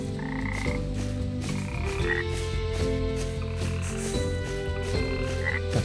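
A frog croaks repeatedly in the video game Potions: A Curious Tale, its steady croaks sitting in the mix over continuous game music, with no talking.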